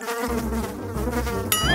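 Cartoon sound effect of bugs swarming over restaurant food, a steady close buzzing drone like flies and mosquitoes, ending in a rising whistle-like tone.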